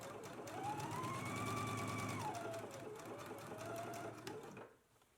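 A sewing machine stitching a 5/8 inch seam allowance on garment shoulder seams, a steady fast mechanical whirr with a rising and falling motor pitch, close and alone, stopping near the end.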